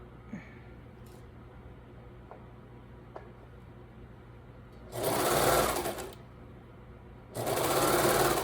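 A sewing machine stitches trim onto a pair of stripper pants, with two close, loud bursts of steady whirring after a quiet start, the second run continuing to the end.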